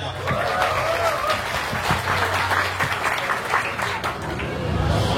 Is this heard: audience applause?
yes